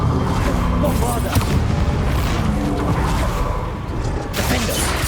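Bombarda spell explosions in Hogwarts Legacy, a dense continuous roar of booming blasts and crashes with rushing bursts near the end, loud and close, with a voice shouting over the chaos.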